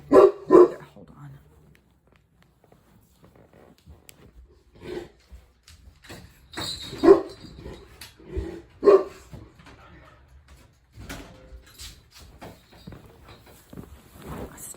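Dogs barking outdoors on trash day, a few sharp barks at the start and more around the middle, with occasional whimpers and yips in between, fairly near, partly under a person talking.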